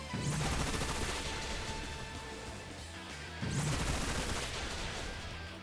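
Bullet Seed attack in a Pokémon video game: dense rapid volleys of popping, crashing hits that burst out loud, ease off, then surge again in a second barrage.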